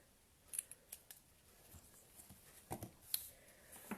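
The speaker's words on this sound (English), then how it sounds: "Now, I'm just going to cut it like so. I'm going to cut a little banner out." Scissors snip through a paper banner at a stamping craft table, a series of crisp, quiet close-up cuts in short irregular bursts with no talking.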